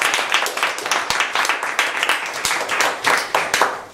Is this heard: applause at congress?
yes